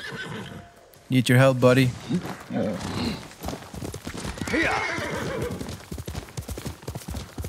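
A horse in the samurai video game Ghost of Tsushima lets out a loud whinny, then its hooves clop along under game dialogue and a player's talk.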